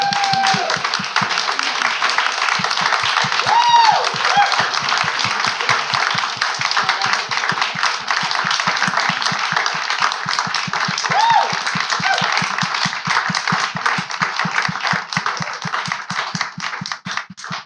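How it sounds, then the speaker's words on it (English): Audience applause at the AIANY Design Awards as project participants stand, a steady dense patter of clapping that runs throughout, with a few brief whistles or cheers rising above it. "and we will clap for you."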